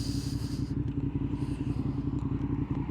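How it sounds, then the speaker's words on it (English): A 4th-generation Suzuki SV650 with an aftermarket exhaust rumbles steadily while being ridden, its throbbing engine pulse loud and continuous throughout. "Now he does have good taste in exhaust. This thing sounds magnificent."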